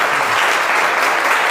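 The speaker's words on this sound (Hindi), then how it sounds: "जोरदार ताली बजाओ इनके लिए" A classroom audience claps in a loud, dense burst of applause, steady and close throughout with no pause.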